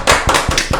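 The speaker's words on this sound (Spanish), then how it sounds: "Un aplauso." Audience applause at a Spanish-language panel talk about election incidents, heard as a short burst of loud, close clapping.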